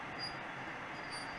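Faint, steady rumble and rolling hiss of HO scale model trains, a freight train and an excursion train, running on a large layout, continuous and low in level without any voices.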